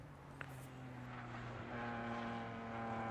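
A helicopter passes over the Sebring race track, its low, steady rotor drone holding a faint, continuous hum that swells slightly as it nears, heard at a distance with no talk over it.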